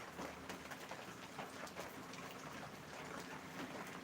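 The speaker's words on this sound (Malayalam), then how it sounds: "ചെറുതായിട്ട് മഴ പെയ്യുന്നുണ്ട്" Faint, soft patter of light rain with scattered drip-like ticks over a quiet, steady background hiss.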